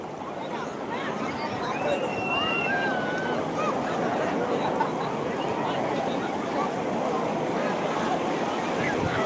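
A crowded sea beach at New Digha on a morning fills the air with a steady, dense wash of surf, wind and distant crowd murmur, with a few faint high whistles over it.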